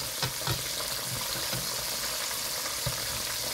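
Catfish pieces frying in oil, a close continuous sizzle and crackle with a few soft stirring bumps and no talk.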